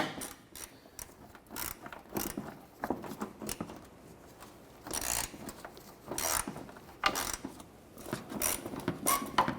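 A 7/32 socket ratchet backs fender liner screws out of a 1993-1997 Ford Ranger, giving irregular bursts of quick clicking with short pauses between strokes, close up and without speech.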